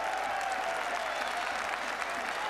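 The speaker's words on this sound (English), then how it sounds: "And the Cardiff crowd generously applaud." A rugby stadium crowd in Cardiff applauds steadily for a Wales versus France match, a dense, even wash of distant clapping with faint commentary-like voices underneath.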